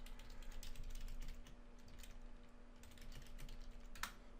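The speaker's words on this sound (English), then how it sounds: "so I'm going to type that up" Keys on a computer keyboard clack in quick irregular bursts as a message is typed, fairly close and quiet, over a steady low electrical hum, with one sharper click near the end.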